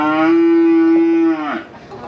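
A heavy Limousin bull weighing about 1,070 kg lets out one long, loud, close moo lasting over a second, followed by a brief softer trailing grunt.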